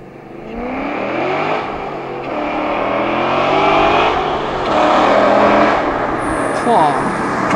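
Engine of a Chevrolet Corvette C6 on the road, accelerating with a steady rising roar that swells and eases over several seconds. It is fairly close and loud, and a person talks over it.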